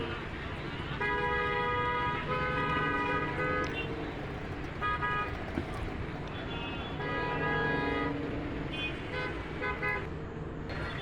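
Morning traffic outside Bhuj railway station, with repeated car horn toots in bursts over a constant engine and road rumble, close and fairly loud.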